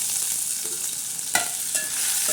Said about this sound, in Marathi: आता हा मस्त कढीपत्त्याला तडका बसत आहे